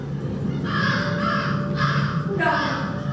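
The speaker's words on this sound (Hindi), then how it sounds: "बंद करो, ये कौवे की आवाज।" Crow cawing during a rehearsal of a Krishna Sobti stage drama, several loud harsh caws in rough bursts close by, heard together with a voice speaking over a steady background hum.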